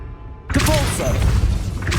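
A Depulso spell impact in Hogwarts Legacy, a sudden loud burst of force that hits hard after a quiet lead-in, followed by whooshing magical swirls and a sustained booming rumble.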